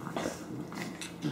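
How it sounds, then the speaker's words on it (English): A dog inside a family kitchen gives soft, close growling and whimpering vocalizations. The sounds come in a few short bursts mixed with breathy noise, and no one talks over them. "Bad dog."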